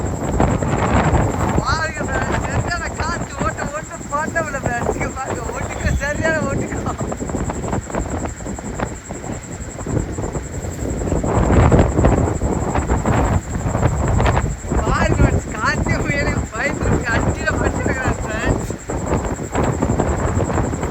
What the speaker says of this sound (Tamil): சரியான காற்று ஓட்டம் ஃப்ரெண்ட்ஸ் சரியான காற்று ஓட்டம்னா சரியான காற்று ஓட்டம்